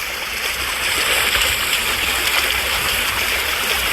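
River water flows steadily, a continuous rushing hiss of a stream that stays loud and even from start to finish.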